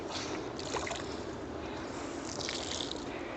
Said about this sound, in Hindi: पानी में गाड़ी चल जा रही